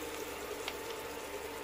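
Water hisses and sizzles steadily in a hot pan where pineapple is caramelizing with onion and fish sauce, a continuous close bubbling wash with a brief pop partway through, no voices.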